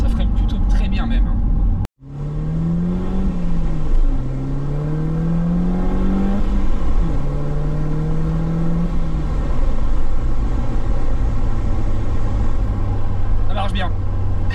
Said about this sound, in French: Ils ont gardé le bruit et le son